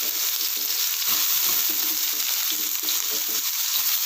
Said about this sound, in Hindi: प्याज को हम एकदम गोल्डन ब्राउन कलर होने तक भूनेंगे।